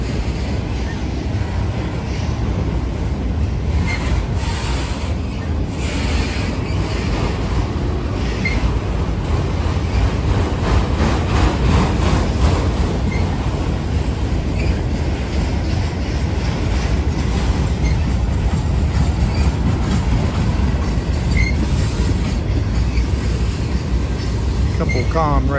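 Freight train of boxcars rolling past, pulled by a mixed lash-up of locomotives: a steady, loud rumble and clatter of cars throughout, with wind buffeting the microphone and occasional faint voices.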